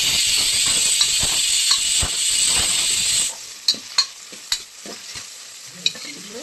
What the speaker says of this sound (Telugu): ఇప్పుడు దీంట్లోకి ఆయిల్ వేసి ఆనియన్ పచ్చిమిర్చి కరివేపాకు పుదీనా వేస్తాను వీటిని ఫ్రై చేస్తున్నాను